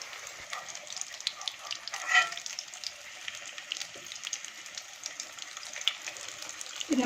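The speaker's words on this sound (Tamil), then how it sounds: "இந்த மாதிரி கோட் பண்ணதுக்கு அப்புறமா ஷாலோ ஃப்ரை பண்ண போகிறோம்." Coated cutlets shallow frying in hot oil, a steady close sizzle and crackle that runs the whole time with only small swells.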